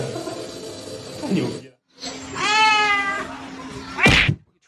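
A cat just woken from a nap gives a drawn-out, wavering meow up close, then a short sharp higher cry, with brief quiet gaps between the sounds.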